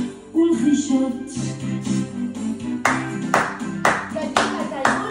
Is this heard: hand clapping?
yes